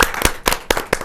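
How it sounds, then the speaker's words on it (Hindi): An audience claps in sharp bursts to welcome a comic poet at a Hindi kavi sammelan, four loud rhythmic waves of applause close by, with no voices. "जहाँ जोरदार तालियों के साथ हम स्वागत करें अनिल अग्रवंशी"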